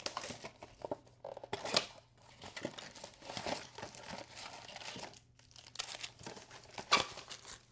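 Panini Phoenix Football card packs are torn open close by, with repeated crinkling and ripping foil-wrapper sounds in irregular bursts, fairly quiet and with no talking.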